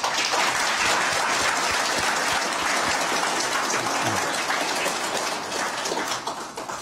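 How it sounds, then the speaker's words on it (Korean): Audience applause welcoming mayoral candidate Ahn Cheol-soo at a broadcast journalists' club debate in Seoul: a dense, steady wash of clapping that holds loud throughout, then thins slightly toward the end. "박수로 맞아주십시오."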